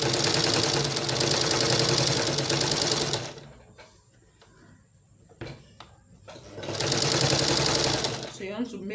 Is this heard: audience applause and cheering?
no